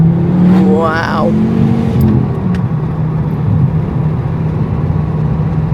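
Car engine revving during warm-up driving after a wheel-spin fix, a loud continuous drone with a rising pitch sweep early on, a person talking briefly over the start.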